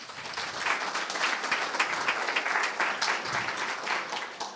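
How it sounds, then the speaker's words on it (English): Audience at a New Jersey 11th district congressional candidate forum applauds steadily for several seconds, a dense even patter of many hands in a hall. "That's the most applause I got on."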